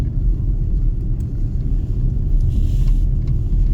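A car drives along a road with a steady low rumble of engine and tyres close up, and the level holds fairly even throughout. No one talks.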